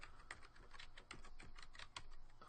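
Keys tapped on a computer keyboard while setting text in Adobe Photoshop, a steady run of close, crisp clicks with brief pauses, no voices.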